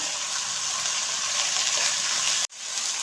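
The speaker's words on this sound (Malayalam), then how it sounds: "കുറച്ച് ഉപ്പ് ചേർത്ത് കൊടുക്കാം കഷ്ണങ്ങളൊന്ന് വഴറ്റിയെടുക്കാം" Salted pieces of yam, colocasia, beans, carrot, snake gourd, green chilli and raw plantain sauté in a pan for avial, giving an even, close sizzle with a brief cut near the end.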